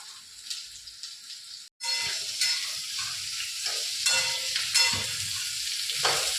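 Food frying in a pan: after a short, quieter opening and a brief cut, a loud, steady sizzle takes over and runs to the end, with occasional stirring scrapes and a watery, tap-like hiss mixed in.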